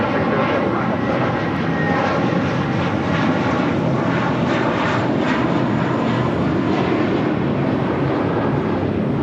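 United Airlines flight 399, a Boeing 787-10 Dreamliner arriving at LAX from Newark on the south side, heard as a steady, broad jet roar that holds at even loudness throughout, with some wind noise on the microphone and no talk.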